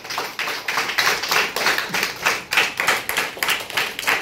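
Audience clapping at a Buddhist community event in Siddharthnagar, a lively crowd of hands beating in a fairly regular rhythmic pattern, loud and close, with no talking over it.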